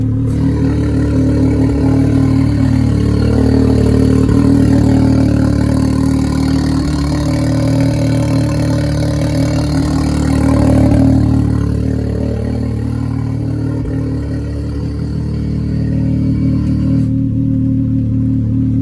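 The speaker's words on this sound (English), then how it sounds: "you get some nice turbo whistle and everything through the exhaust." A turbocharged Can-Am Maverick X3 XMR side-by-side engine idles steadily and loud up close, exhaust cutout open, its exhaust rumbling with occasional swells in revs and a faint turbo whistle above.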